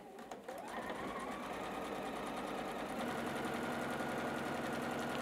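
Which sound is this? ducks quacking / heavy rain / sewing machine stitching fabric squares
sewing machine stitching fabric squares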